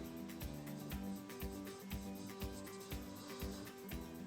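A finger rubs over a chalk drawing of a turtle to smooth and blend it, giving a steady, close, rhythmic scrubbing with regular repeated strokes and no voice over it.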